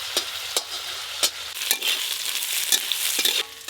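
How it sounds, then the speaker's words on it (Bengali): Chicken pieces coated in spice paste fry in a pan, giving a steady bright sizzle broken by several sharp spatula scrapes and stirs, close and without talk. "মশলা দিয়ে চিকেনের পিসগুলো বেশ ভালো করে ভাজা ভাজা করে নিয়েছি"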